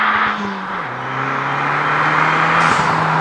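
A Fiat 500 Abarth's engine revs hard under acceleration, a loud, steady, close drone that steps down in pitch at a gear change and keeps pulling, with no talk over it.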